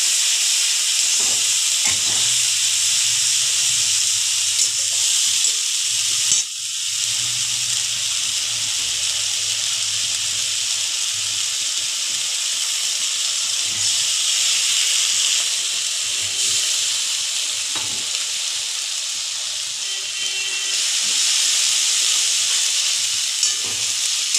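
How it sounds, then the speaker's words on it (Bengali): Ginger, green chili and onion fry loudly in hot oil for a chicken leg curry, a steady close sizzle with occasional stirring clatter and no talk. "আদা কাঁচা লঙ্কা পেঁয়াজ এটা দিয়ে দিলাম ভালো করে কষিয়ে নিলাম"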